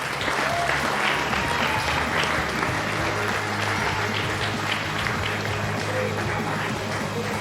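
An audience in a sports television studio applauds, sustained and even clapping throughout, with faint voices underneath.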